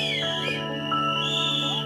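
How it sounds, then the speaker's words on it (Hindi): An audience at a Bollywood trailer launch event whistles shrill, sustained notes that waver and bend in pitch, several whistles overlapping loudly across the hall. "सीटियां बजाओ प्लीज, थोड़ा सीटियां बजाओ कोई।"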